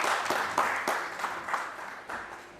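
A stage audience claps for the cast members of a Sita Ka Tyaag play. The applause is moderate and steady, with some louder bursts, and lasts a few seconds.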